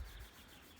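A sanding block rubs along the edge of a scythe blade, cleaning it before peening, giving a brief, steady close-up scraping sound with no voices.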